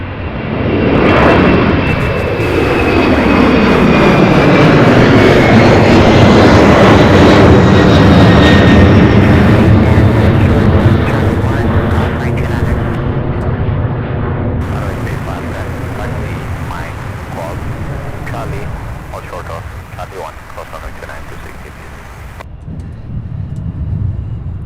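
A UPS heavy freighter jet takes off at Louisville, a loud sustained engine roar that swells, sweeps in pitch as it passes, then slowly fades, with a voice faintly under it.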